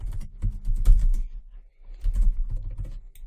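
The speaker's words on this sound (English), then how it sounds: "instead of this I would just type in learn" Fingers tap out a short word on a computer keyboard in two quick bursts of close, clicky keystrokes separated by a brief pause, with no voices.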